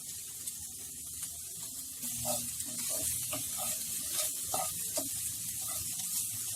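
Masala, onions and coriander leaves roasting in a pan over a high flame, a steady, close sizzle and hiss that grows a little louder partway through, with faint stirring clatter and no talk.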